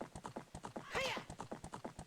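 Galloping horse in The Legend of Zelda: Ocarina of Time, with quick, evenly rhythmic hoofbeats close up and a brief whinny midway.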